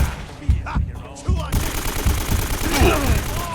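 Video game gunfire with a shotgun among other weapons: a few heavy blasts early, then a dense stretch of rapid shots, with a voice speaking briefly over it.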